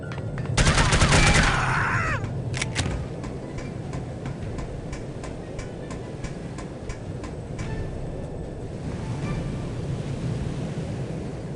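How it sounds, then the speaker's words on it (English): SMG gunfire in No One Lives Forever rips out as a loud, dense burst near the start, followed by a few scattered sharp shots over a steady background hum. "A little loud, isn't it? The SMG is really loud."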